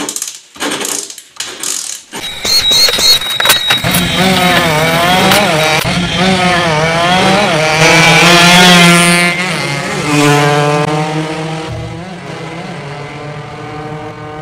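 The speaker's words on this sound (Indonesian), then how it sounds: "Ini ketika kita starter atau kita engkol, ini ada suara kayak longgar ya pada bagian dalam mesin." A Suzuki Smash motorcycle is started, a few short cranking bursts followed by the engine catching and running, close and loud, with a loose rattling from inside the engine and revs rising and falling.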